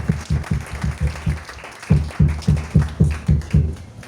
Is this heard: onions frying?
no